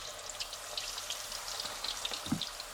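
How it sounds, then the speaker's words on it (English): Chicken wings frying submerged in hot oil give a soft, quiet bubbling crackle with scattered light pops, fairly even throughout. "you're going to go ahead and put the wings in the oil"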